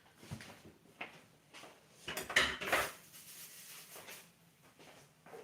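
A knife carves a freshly roasted Sunday roast in a home kitchen, with scattered scraping and clinking of blade and utensils against a plate or board. A denser clatter comes in the middle, with no voices.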